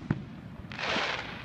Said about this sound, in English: As the Falls Church fireworks display was lighting up the night sky,